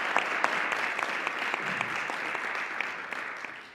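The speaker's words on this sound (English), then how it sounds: "Can we give a round of applause to our sponsors?" Lecture audience applauding steadily for about four seconds, a dense even wash of clapping with scattered sharper claps, fairly distant and without talk.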